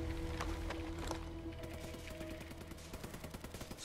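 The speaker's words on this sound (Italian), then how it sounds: "Sento degli spari!" Gunfire in Ghost Recon Breakpoint rattles in rapid bursts, a dense stream of shots ending in a rhythmic machine-gun patter over a droning game backdrop.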